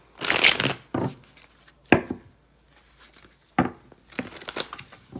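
Tarot cards being shuffled, close and crisp: several quick riffling, rustling bursts separated by short pauses, with no talk.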